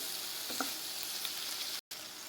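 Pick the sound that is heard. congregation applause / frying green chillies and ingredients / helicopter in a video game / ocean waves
frying green chillies and ingredients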